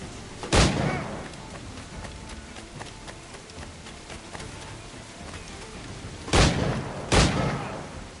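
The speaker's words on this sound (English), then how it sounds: "Gunshots work too." Three sharp, loud gunshots in the video game Assassin's Creed Black Flag ring out, one early and two close together near the end, over a low background hum.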